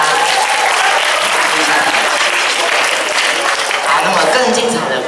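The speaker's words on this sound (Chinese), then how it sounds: "那我们再给两位观众一个热烈的掌声吧" Audience at a university farewell performance show gives two volunteers warm applause, a dense, steady clapping that fills the room for several seconds without a break.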